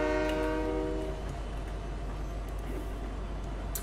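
Loud train horn blast at the start as the train pulls away, fading into a steady rumble of rail movement.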